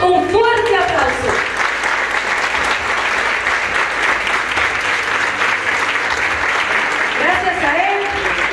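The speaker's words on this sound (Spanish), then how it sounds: "Señor de Señores, nuestro Señor Jesucristo, a quien le damos un fuerte aplauso." A crowd at a quinceañera celebration bursts into loud, sustained applause, with a voice talking over the clapping at the start and again near the end.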